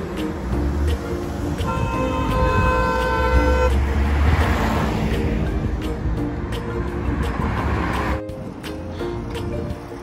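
Heavy, congested road traffic with large vehicles rumbles along while car horns honk, one long sustained blast followed by shorter toots, loud and close over a constant engine roar.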